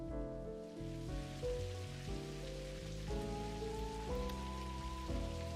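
In the video game Necrobarista, rain falls outside as a faint, steady hiss beneath soft, stepping musical tones, with no voices.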